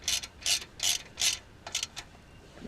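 A hand ratchet snugs bolts on a Boomba rear motor mount in a Ford Fiesta ST, giving four quick bursts of clicking followed by two shorter ones, close and fairly loud.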